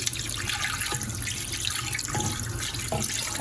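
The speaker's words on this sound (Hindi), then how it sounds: "साथ में मैं डाल रही हूँ तकरीबन 1 लीटर पानी" About one liter of water pours steadily into a metal pressure cooker with a rushing, splashing stream that keeps going the whole time, close and fairly loud.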